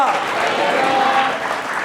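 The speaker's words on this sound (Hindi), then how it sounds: "क्यों ना जोर से प्रभु के लिए ताली बजाए।" A church congregation claps loudly and continuously for the Lord during a sermon, a dense, close, sustained wall of hand claps with a voice faintly present beneath.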